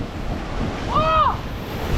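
Ocean surf rushes and breaks steadily at Crystal Pools near Foster, New South Wales, while wind buffets the microphone, with a brief high warbling tone rising and fading midway.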